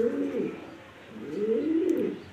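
A large female pigeon gives two clear, rolling coos, each rising and falling in a low throaty warble, close and fairly loud against a quiet background.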